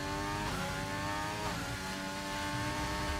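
A race car in a racing video game accelerates out of a turn, its engine a loud, steady, close drone with strong harmonics that holds throughout, with no talking over it.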